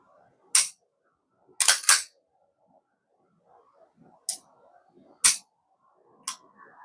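Beretta 92FS pistol trigger resetting: a series of crisp, close clicks spaced irregularly, two of them nearly back to back, with faint handling rustle between and no talk.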